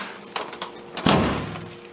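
A jammed bedroom door in a condo is forced open: several knocking thumps as it resists, then a louder bang as it gives way, followed by a fading rumble.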